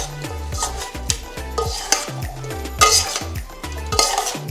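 A spoon stirs broccoli salad with small cheddar cheese pieces and chopped apple in a bowl, with repeated clinks and scrapes in a steady mixing rhythm, close and fairly quiet.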